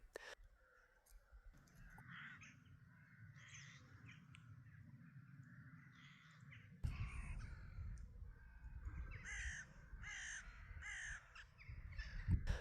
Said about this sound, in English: Crows circling a dead tree on the horizon